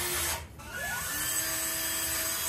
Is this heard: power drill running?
yes